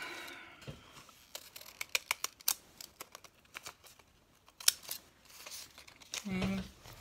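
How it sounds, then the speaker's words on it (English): Scissors snip through paper for art pages in a quiet room, a rapid series of sharp, close cutting clicks with short pauses between them. "I'm going to grab some cute scissors."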